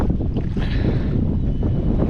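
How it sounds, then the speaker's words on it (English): Wind blowing over a river on a January fishing outing, a steady low roar with gusty buffeting against the microphone, constant and loud throughout with no voices. "A little windy today."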